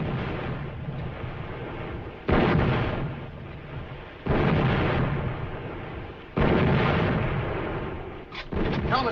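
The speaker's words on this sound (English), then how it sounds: "Get a message through to the flagship to cease firing." Heavy naval artillery fire from a 1942 war film: three or four massive booming blasts, each rolling into a long, loud, dark rumble that slowly fades before the next shot, ending with a cluster of sharper bangs.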